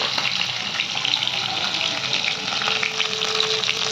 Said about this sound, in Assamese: এইফালে মাছ ফ্ৰাই কৰি আছোঁ